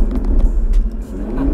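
Audi RS3 Stage 3 with 510 hp, running in dynamic mode with exhaust pops and bangs: a loud, close, rumbling engine with irregular crackles throughout.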